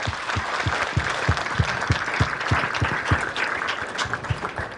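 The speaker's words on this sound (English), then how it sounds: "give a big round of applause to the CEO of my company" Conference audience applause for a company CEO at a strategic partnership panel, dense steady clapping from a crowd with a regular rhythmic undertone of hand claps throughout, moderately loud and continuous.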